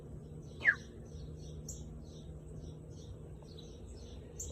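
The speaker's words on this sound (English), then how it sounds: "Chirping." Small birds chirping outdoors, a few faint short tweets repeated at intervals over a low steady background hum, with one brighter call near the start.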